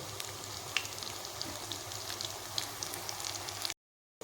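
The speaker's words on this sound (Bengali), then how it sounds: "এভাবে ফ্রাই করে নিব সিমের পুরগুলোকে" Stuffed flat bean (shim) pieces fry in a pan over low-to-medium gas, giving a steady close sizzle with scattered crackles before an abrupt cut to silence.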